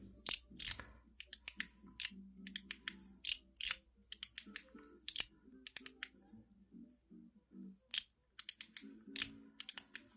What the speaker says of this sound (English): this is with the outside detents only. 4 clicks either way.